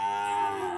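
A Limousin calf at a cattle market in Rogojampi, Banyuwangi gives a single drawn-out moo, close and fairly loud, with no talk over it.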